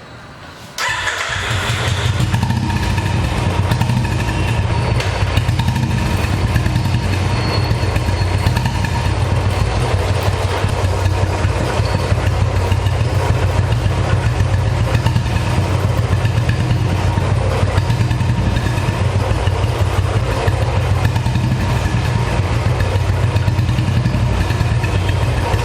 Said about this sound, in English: We will be starting the bike and putting the bike on first gear.